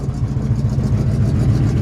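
A 1965 Chevrolet C-10 pickup truck engine runs steadily at a close, loud idle, with a deep, even rumble and no talk over it.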